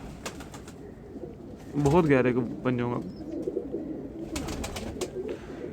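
A Kasuri pigeon coos close by, two deep throaty bursts in quick succession, with someone talking before and after.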